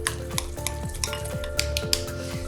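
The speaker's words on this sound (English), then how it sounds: "And we're just gonna give it a good mix." Herbs, butter and fresh cracked pepper being mixed in a bowl for a herb-roasted turkey breast, close rhythmic scraping and clinking of a utensil against the bowl with a low hum underneath, no voices.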